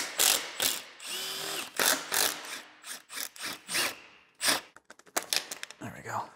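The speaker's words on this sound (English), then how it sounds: "Let's loosen up the timing chain tensioner." Irregular bursts of ratchet clicking and metallic rubbing as a ratchet loosens the timing chain tensioner on a Mustang Cobra engine under rebuild, with short pauses between pulls.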